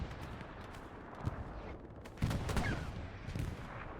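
Aircraft strafing fire in the Hell Let Loose war game comes as bursts of rapid, distant-sounding gunfire with a heavier volley midway, over a constant battlefield rumble and no speech.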